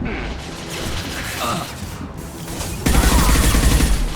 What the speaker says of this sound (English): I get to try out this new Inferno ammo, though.